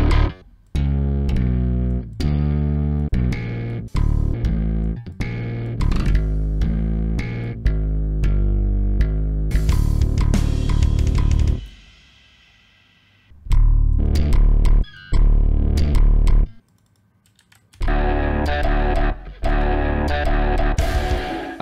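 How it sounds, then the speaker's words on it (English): Metal guitar run through a UAD Marshall Plexi Classic amp simulator plugin in mono, loud, heavily distorted chugging chords and sustained notes with abrupt stops and short silent gaps. "here we put the UAD Marshall Plexi Classic in mono."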